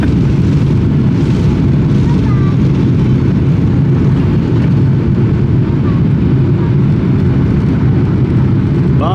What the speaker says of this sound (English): As we approach the end of the runway, up we go.